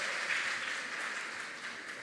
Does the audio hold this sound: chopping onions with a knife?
no